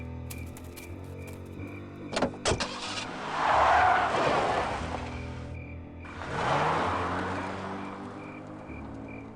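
A car driving in the game Full Throttle Remastered: a few sharp door or impact clicks, then two swelling engine whooshes as the vehicle passes close by, fading between them.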